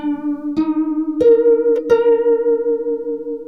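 Harp run through a Copper Sound Polaris pedal set for fast vibrato: sustained plucked notes with a rich harmonic stack and rapid wavering pitch, three struck attacks over a steady held tone, close and alone.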